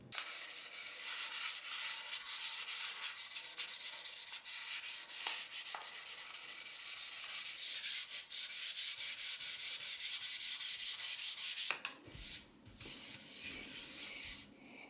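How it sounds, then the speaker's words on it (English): A guitar body being sanded smooth with 600 grit sandpaper: quiet, close, steady rhythmic rubbing strokes for about twelve seconds, then a brief change to softer handling noise, with no talking. "I'm going to go ahead and sand it with 600 grit sandpaper until it's nice and smooth again"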